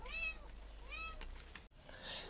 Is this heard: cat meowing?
yes